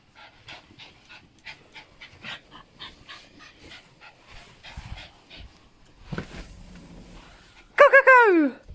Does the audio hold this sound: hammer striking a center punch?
no